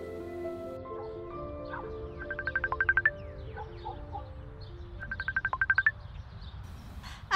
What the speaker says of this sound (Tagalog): Tumatawag ang mama mo!